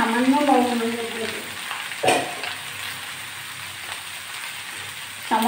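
Bottle gourd and potatoes fry in a pan, giving a soft, continuous hiss and sizzle with a couple of stirring scrapes. A voice talks briefly at the start and again at the end.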